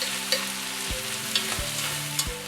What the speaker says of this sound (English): now it's time to add my tomato paste and then just stir that through the onions